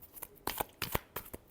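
Tarot cards are shuffled by hand in a few quick riffling bursts, close and fairly quiet, with short pauses between each pass.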